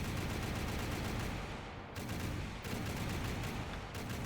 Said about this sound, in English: You can load whatever shell will fit into it, and it will fire constantly.